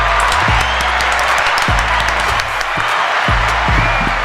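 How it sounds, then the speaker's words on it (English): An audience applauds the women on a panel at a promoter's discussion event, with loud, dense clapping and a low crowd murmur running steadily throughout. "Clap it up for ladies."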